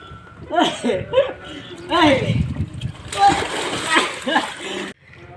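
Bodies splash into a swimming pool with sloshing water and bursts of spray, close by, while children talk and laugh throughout.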